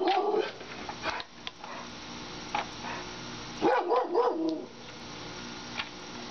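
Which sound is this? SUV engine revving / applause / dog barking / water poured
dog barking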